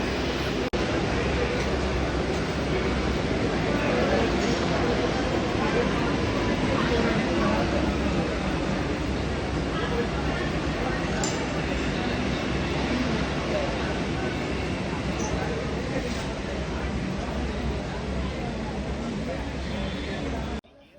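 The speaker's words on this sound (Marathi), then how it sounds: "आता खूप वेळानंतर फायनली ट्रेन वानगाव स्टेशनवरून निघालेली आहे." An express train pulls out of Vangaon station at dusk, its steady rumble and rolling noise filling the scene continuously at a moderate distance, with faint crowd babble mixed in.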